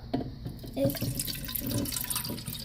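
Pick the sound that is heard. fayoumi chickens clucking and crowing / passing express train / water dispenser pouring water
water dispenser pouring water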